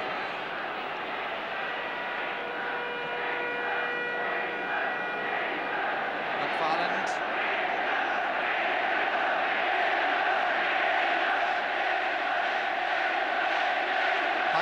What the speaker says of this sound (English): Crowd certainly playing their part.